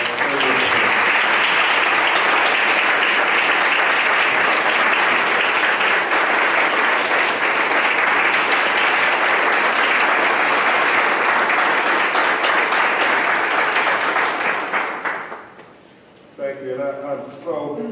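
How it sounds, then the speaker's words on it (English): Sustained, loud applause from a large lecture audience honoring Amaria Rice, dense and steady for about fifteen seconds before tapering off, with a voice beginning to speak as it fades. "Y'all please give her a round of applause."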